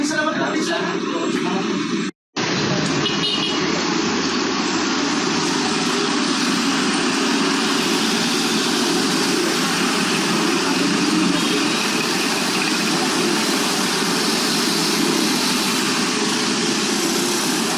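Two engines running together at a steady, loud drone that fills the whole stretch apart from one brief dropout near the start.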